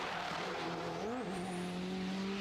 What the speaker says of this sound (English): I think I saw him just put down tyre marks as well.